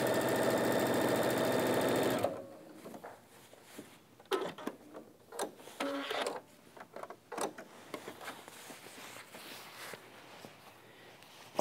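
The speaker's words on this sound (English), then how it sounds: "line your needle up right with that folded edge, and stitch right in that little ditch area." A sewing machine stitches in the ditch along the folded edge of a coat seam in a loud, steady burst for about two seconds, followed by quieter fabric handling, knocks and rustles.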